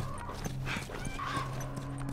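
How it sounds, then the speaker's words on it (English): Horse in a video game, a few hoof clops on hard ground alongside a short whinny and snorting, close by, with faint game ambience and soft voices behind. "Stay with the horse."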